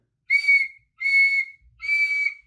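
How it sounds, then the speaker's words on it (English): A shrill silver whistle sounds three times in a row, each long, clear blast separated by a brief pause, with nothing else around it. "blew 3 times upon her silver whistle"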